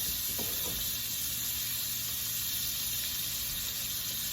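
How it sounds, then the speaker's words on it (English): Sausage frying in a pan gives a steady, close, continuous sizzle and hiss with no voices. "we're just getting the sausage cooked"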